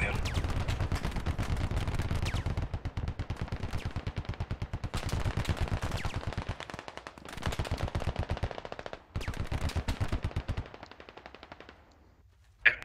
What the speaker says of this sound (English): I'm gonna shoot at him then.